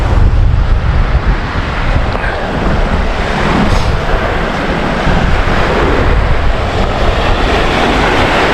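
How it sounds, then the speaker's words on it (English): Strong wind blows across a Minnesota lake shore strewn with driftwood, a loud, constant broadband roar with heavy buffeting on the microphone and surf-like wash throughout, no voices. "it is breezy and cool down here"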